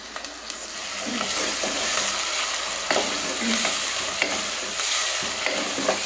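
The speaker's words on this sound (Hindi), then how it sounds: "बस ये प्याज थोड़ा सा हम लोगों ने डालना है, ज़्यादा भूनना नहीं" Onion fries lightly with chillies in a pan, a continuous close sizzle and crackle broken by occasional scraping taps of stirring, with no talking.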